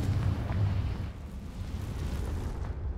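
Confringo spell blast in Hogwarts Legacy, a heavy rumbling explosion that swells at once and rolls on loudly with a deep roar before tailing off.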